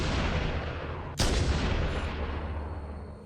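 A single sharp gunshot cracks out in the Halo video game, aimed at an Elite holding a sword, then rings off and fades over a few seconds.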